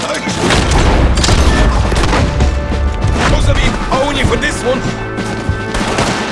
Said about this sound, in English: Damn, they shoot.